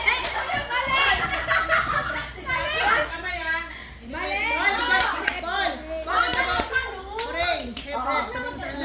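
At a children's Christmas party game, hands clap in short bursts among loud, excited children's voices and laughter. Someone keeps talking over the noise.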